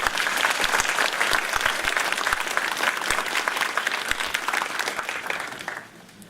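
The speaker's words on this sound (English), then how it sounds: "Let's give them a nice round of applause." Sustained audience applause at an adult basic education graduation ceremony, dense clapping that holds steady and then fades out near the end.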